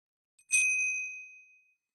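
A single bright chime strikes once with a clear metallic ring and fades out slowly over about a second, with near silence around it.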